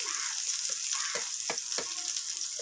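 Washed rice dry-roasting in a pan gives a steady, close sizzle with a few soft scraping stirs, and no one speaks.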